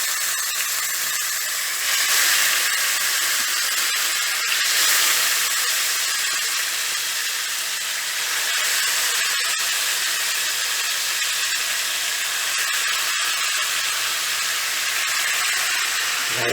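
Calamari frying in about two tablespoons of hot oil, a loud, steady sizzle and hiss that continues evenly without pause and with no talk.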